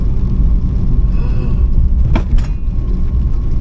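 Inside a moving van, steady road rumble is broken by two sharp thuds in quick succession as the suspension strikes a pothole.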